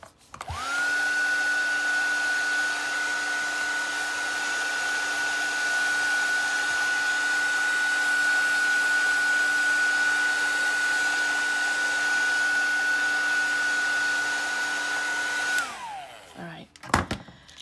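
A heat tool dries a mixed media art mask with a loud, constant whirring hum that runs unbroken for about fifteen seconds before spinning down, followed by a few handling knocks.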